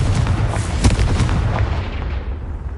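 Confringo explosive spell cast in Hogwarts Legacy, a heavy booming blast with a deep rumbling body that decays over about three seconds.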